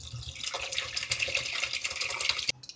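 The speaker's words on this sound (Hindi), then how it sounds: "अभी पानी डाल दूंगी।" Water poured into a bowl of spices, yogurt and gram flour mixed for kadhi, a steady close splashing pour lasting a couple of seconds before stopping abruptly.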